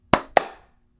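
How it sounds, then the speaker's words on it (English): A small group claps together on a count, producing two sharp, close, loud claps about a quarter second apart, slightly out of sync, followed by silence. "Let's clap on 3."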